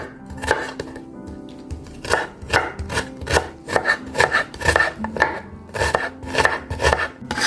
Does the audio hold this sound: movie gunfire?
no